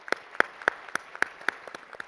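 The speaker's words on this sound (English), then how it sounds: "Let's give them a big hand of applause" A few people in a conference audience clap for the panelists, eight or nine separate sharp claps at an even pace, sparse and close, with no talking over them.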